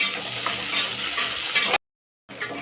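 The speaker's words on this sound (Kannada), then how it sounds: "ಇವಾಗ ಈರುಳ್ಳಿನ ಸ್ವಲ್ಪ ಗೋಲ್ಡನ್ ಕಲರ್ ಬರೋ ತನಕ ಫ್ರೈ ಮಾಡ್ಕೊಳ್ಳೋಣ" Onions, green chillies and curry leaves frying in hot oil for a tempering, giving a steady, close sizzle that cuts out suddenly for about half a second and then resumes, with no talking.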